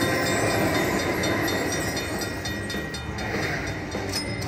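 A gold train bonus sounds on a slot machine game, giving a steady rumbling, clattering rail run with hiss layered over it at an even, fairly loud level throughout.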